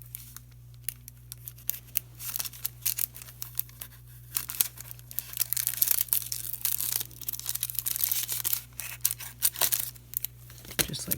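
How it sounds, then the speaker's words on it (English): Scissors snip through a boho art doll's hair in a quick run of close, crisp cuts and rustles over a steady low hum. "cut her hair."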